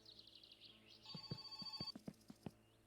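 A telephone rings in the video game My Summer Car. A rapid electronic trill comes first, then a sustained bell tone joins, with quiet clicks and taps, faint and alone.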